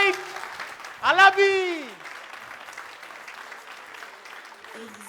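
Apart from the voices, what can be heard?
studio audience applause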